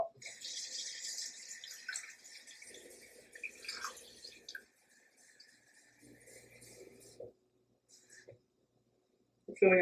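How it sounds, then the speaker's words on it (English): Cold water runs from a tap into a jar of pickled onions already half filled with apple cider vinegar, a soft close pour that rises, falls away and ends with a few drips and a short clatter. "And then I'm putting cold water on top."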